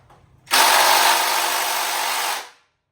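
A power driver fitted with a T40 Torx bit backs out a screw on a dirt bike, a loud continuous whirring burst of about two seconds that starts abruptly after a quiet moment and then winds down to silence.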